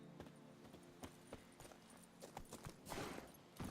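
Horse hooves in The Witcher 3 game, quiet scattered thuds and clops at an uneven pace, growing a little busier and louder toward the end, heard close with no talking.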